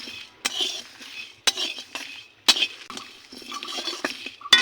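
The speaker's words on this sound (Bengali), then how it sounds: "কিন্তু মশলাটা ভাজতে হবে" Whole cumin and other whole spices are dry-fried in a pan for mango pickle, heard as a series of sharp metallic clinks and scrapes of a utensil stirring against the pan, with quieter crackling between the strikes.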